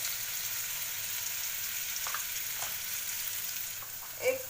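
Browned onion frying in a pan as turmeric goes in, for a Marathi ridge gourd and chana dal dish: a faint, steady sizzle with a few light stirring clicks and a brief scrape near the end.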